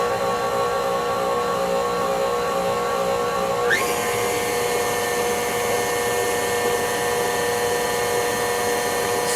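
An electric mixer whips butterscotch pie filling toward soft peaks, a steady motor whine that jumps up in speed partway through and then holds constant, running alone with no talking.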